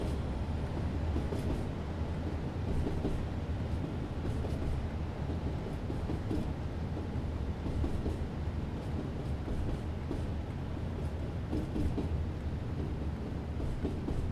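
A Class 37 diesel locomotive runs steadily on a 1988 freight working from Ripple Lane to Southampton, with a continuous deep rumble and rail noise and faint rhythmic clicks over the joints, heard from on board.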